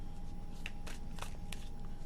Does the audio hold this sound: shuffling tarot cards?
yes